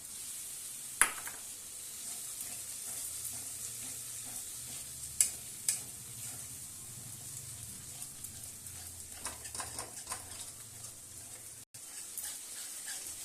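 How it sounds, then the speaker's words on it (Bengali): Cashew and raisin paste is stirred into oily frying masala for a chhena kofta curry, giving a low, steady sizzle with repeated spoon scrapes and a few sharp clinks. A dog sounds briefly now and then, and no one speaks. "এবার আমি এটার মধ্যে এই কাজু বাদাম কিশমিশ বাটাটা দিয়ে দিচ্ছি।"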